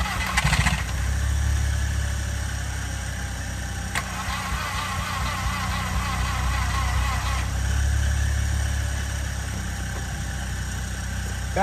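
A boosted MK4 VW Jetta fitted with a new intercooler cranks and then runs at a rough, steady idle, heard up close with a low engine rumble and no talking.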